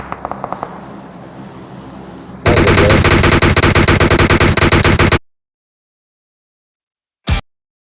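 Rapid bursts of automatic gunfire in PUBG Mobile, a dense loud stretch of shots lasting a few seconds after lighter earlier fire, then silence and one final sharp shot.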